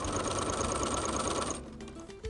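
A sewing machine stitches continuous bias quilt binding in a fast, steady mechanical whir, close and loud, then stops abruptly, followed by a few faint clicks.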